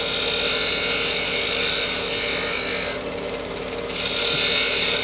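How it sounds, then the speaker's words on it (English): Easy Wood tool taking very light, thin shaving cuts on a wood-turned sea urchin shell ornament; a steady, close, continuous hiss of fine scraping with a brief dip in intensity near the middle, no talking. "You're just shaving off whispers of wood."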